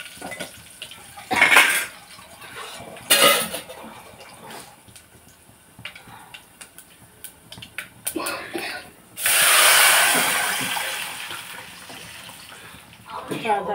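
Hot tempering of mustard seeds, fenugreek, cumin and dried red chillies is poured into rasam with a loud hiss, amid metallic clanks of pots, pans and spoons in a home kitchen.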